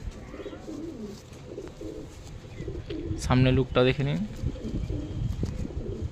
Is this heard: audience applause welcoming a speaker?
no